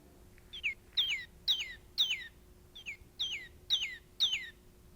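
A squeezed toy female cardinal call plays a bright, whistled chirp, repeated eight times in two quick series, clear and near.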